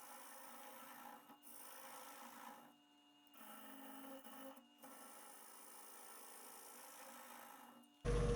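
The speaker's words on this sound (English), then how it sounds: "I'll clean all this off so that the gouge moves smoothly on the tool rest" Tannin residue being scrubbed off a woodturning tool rest after turning a big walnut bowl, a steady rasping rub in long strokes broken by brief pauses, with a loud knock right at the end.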